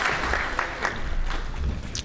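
Applause at a Garland sports hall of fame induction ceremony, a short burst of crowd clapping with scattered sharper claps standing out, fairly steady over the brief stretch.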